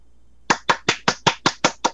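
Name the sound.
hands clapping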